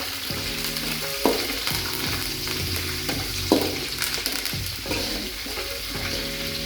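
Curry leaves sizzle and crackle in hot oil while being stirred in a pan for uppit, with a steady bright frying hiss and occasional louder scrapes and clanks of the spoon against the pan.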